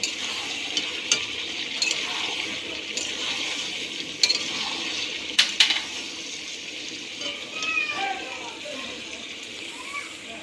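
Fried potatoes being stirred into a meat curry sizzling in oil, a steady close frying hiss with scraping and a few sharp knocks from the spoon against the pan.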